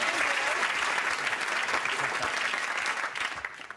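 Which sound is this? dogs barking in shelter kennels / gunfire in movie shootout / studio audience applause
studio audience applause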